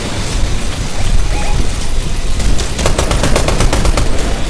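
Rapid bursts of video game gunfire rattle over a steady noisy background, with faint Filipino voices underneath.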